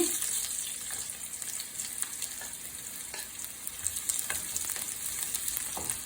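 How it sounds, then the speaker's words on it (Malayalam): Curry leaves and shallots sizzle steadily in hot coconut oil for an Angamaly mango curry, a bright continuous crackle with scattered sharper pops and faint stirring clicks throughout. "ചൂടായ വെളിച്ചെണ്ണയിലേക്ക് നമ്മൾ കറിവേപ്പില, ചുവന്നുള്ളി,"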